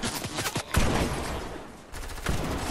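Gunfire in a battle royale video game: repeated sharp shots in quick bursts, fairly loud, with rapid fire and a dense crackling spread through the clip and no voices.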